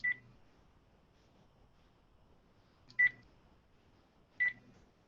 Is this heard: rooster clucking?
no